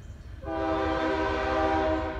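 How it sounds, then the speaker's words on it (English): A southbound freight train hauling autoracks and intermodal cars sounds a loud, sustained horn blast that starts abruptly and holds steady over the low rumble of the passing train. "Train number four. Southbound."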